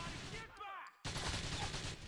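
Rapid bursts of gunfire in the biker game GTA The Lost and Damned crackle loudly, a volley, a brief gap, then another dense barrage.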